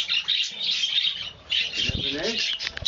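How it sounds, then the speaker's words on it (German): A pet budgerigar chirps and tweets in quick bright bursts close by, with a soft voice murmuring under and between the calls. "Was ist los, Mika, Vogel, du, hm"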